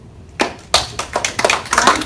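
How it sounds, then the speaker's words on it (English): A few scattered hand claps, nearby and fairly loud, come in uneven bursts during a casual shoelace jump rope game, with no speech. "Why are you clapping for that?"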